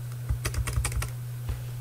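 Several quick key presses on a computer keyboard in an office setting, a short cluster of crisp taps followed by a lone later tap, close and clear over a steady low hum.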